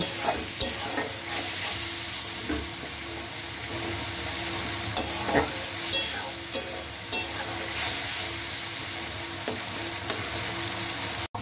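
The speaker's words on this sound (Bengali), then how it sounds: "সামান্য একটু জল দিলাম, দিয়ে এটাকে এবার ভালো করে কষিয়ে নেব" Spice masala with a splash of water is sautéed in a pan, a constant soft sizzle and bubbling broken by several sharp scrapes and knocks of the spoon against the metal as it is stirred.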